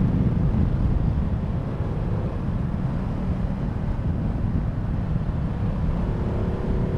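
Ducati Multistrada 1260 S motorcycle ridden in sport mode, giving a steady, loud engine drone blended with heavy wind rush that holds constant throughout.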